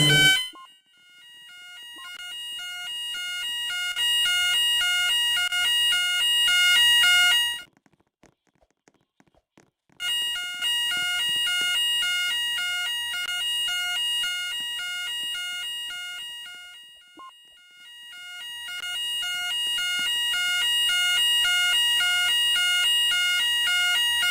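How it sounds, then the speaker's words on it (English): A store fire alarm in a Roblox shopping game, a loud rapid repeating electronic beeping tone that runs for several seconds, stops briefly, then starts again and continues. "The fire alarm has been activated."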